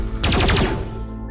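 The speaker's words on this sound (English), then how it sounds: "They both took out their space guns and went head-on in a fierce gun battle" Space guns blaze in a fierce head-on gun battle against aliens, a dense burst of rapid, loud cartoon-style shots crowded into about half a second before ringing off into a fading tail.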